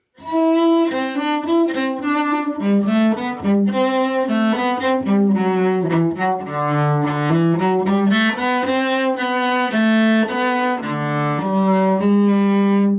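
A cello plays a flowing, moderately paced minuet melody from Suzuki Book 2 in a low-to-middle register, solo and close, with smooth connected notes and no voices.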